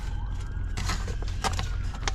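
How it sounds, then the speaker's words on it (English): Sirens wail faintly in the distance, rising and falling in several short bursts over a steady low street rumble, with no one speaking. "I guess there's some sirens going on."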